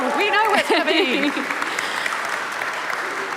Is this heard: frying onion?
no